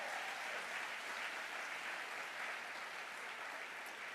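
Sustained applause from a summit audience, dense and steady clapping filling the room without a break for about four seconds, fairly distant and even in level with no voices over it.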